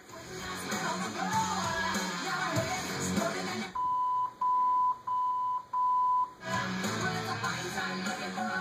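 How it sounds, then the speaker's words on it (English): A converted FMR-1 radio gives a series of short, clean electronic beeps, about five in quick succession, each separated by a brief gap, standing out clearly after steady background noise cuts away. "After approximately 2 seconds, the radio will beep again"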